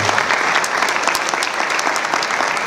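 Dense, sustained applause from an audience at an international aquaculture forum, a steady wash of many hands clapping loudly throughout with no voices over it.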